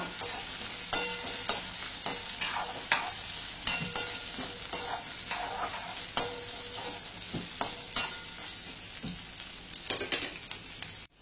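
Chopped onions and green chillies fry in a pan as a spoon stirs them, giving a soft sizzle with a regular rhythm of sharp scraping and clinking strokes close up.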